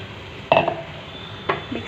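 Stirring tomato masala frying in a pan, heard as a few brief scraping and clinking strokes of a spoon against the pan, close by, with quiet gaps in between.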